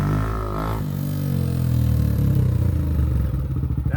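A Honda XR250 motorcycle engine chugs close by and then revs up as it rides around a house, giving a steady mid-pitched rumble with a pulsing beat.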